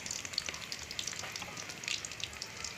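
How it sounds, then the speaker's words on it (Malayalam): Crushed ginger and garlic frying in a little oil in a pan for chicken roast, a steady close sizzle dotted with tiny crackles and pops, with no talking. "അപ്പോൾ അതിലേക്ക് നമുക്ക് ഇഞ്ചി വെളുത്തുള്ളി ചതച്ചതാണ് ഞാൻ ആദ്യം ചേർത്ത് കൊടുക്കുന്നത്"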